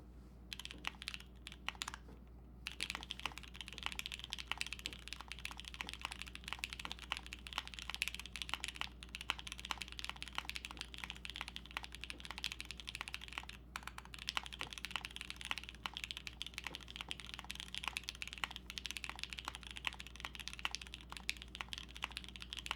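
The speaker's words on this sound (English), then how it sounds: "I want to do one more typing test because that was like so much fun to type on." Steady, continuous typing on a Grimm Salene mechanical keyboard, a dense run of crisp keystroke clicks close to the mic, played alone with no talking.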